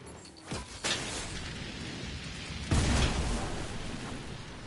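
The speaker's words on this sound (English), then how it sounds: "Fire and explosions for people who try and follow me." Explosions in a Fortnite match: two loud booming blasts, the first short and the second heavier and sustained, with a rumbling tail behind each.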